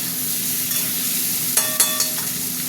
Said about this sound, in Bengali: আলুগুলো এই পেঁয়াজের সাথে একটু ভাজবো।